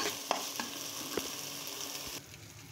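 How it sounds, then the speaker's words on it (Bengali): Rice and spices frying in a pan for jhura biryani give a soft continuous sizzle with a few scraping stirs, faint and close, easing off near the end. "আমি এখন এটাকে সুন্দর মতো যতক্ষণ না ভাজা হবে ততক্ষণ ভাজতেই থাকবো"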